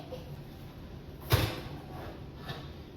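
An oven door shuts once with a short, fairly soft thud in a home kitchen during cornbread baking, followed by a faint knock about a second later.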